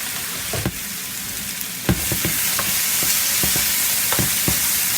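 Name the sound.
zucchini and mushrooms sizzling while stirred in pan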